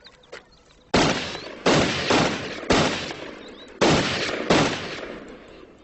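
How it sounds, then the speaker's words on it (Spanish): Gunshots fired at tin cans set about 15 metres away: six loud, sharp, close-range cracks at irregular intervals, each trailing a short echoing decay, with quiet pauses between them. "Disparé y acerté a unas cuantas."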